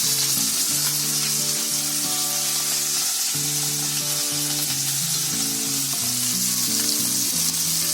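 Fish fillets fry in oil on a flat pan, giving a loud, steady sizzle and crackle that runs throughout with no talking.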